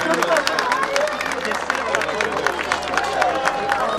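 A crowd claps steadily at the opening of an autism unit facility, a dense, continuous patter of many hands at moderate loudness with some voices mixed in.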